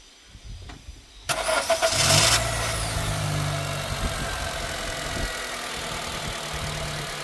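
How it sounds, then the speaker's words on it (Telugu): A 2018 Honda Amaze petrol car cranks briefly and fires up after a quiet moment, then settles into a smooth, steady idle heard up close, with no voices. "ఇంజిన్ కూడా స్టార్ట్ చేసి చూపిస్తాను సౌండ్ ఎలా ఉందో చూద్దాం"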